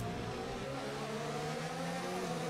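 A Formula 1 race car in F1 2019 holds a steady, high-revving engine whine throughout, loud and continuous with layered harmonic tones and no talk over it.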